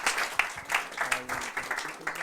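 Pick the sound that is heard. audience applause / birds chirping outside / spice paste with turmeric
audience applause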